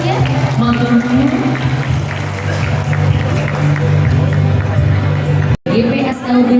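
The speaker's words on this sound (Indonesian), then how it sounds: "Sekali lagi boleh kita kasih tepuk tangannya" Audience at a public event breaks into loud, sustained applause with crowd chatter mixed in, close and continuous for several seconds before a brief cut.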